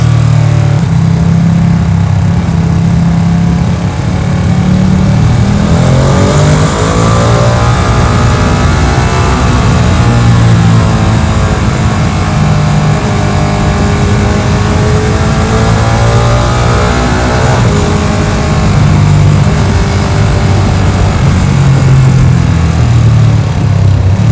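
A Ducati Panigale V2 sport motorcycle with a Termignoni exhaust roars close and loud throughout, its engine rising and falling through revs and gear changes on the road, with no voices.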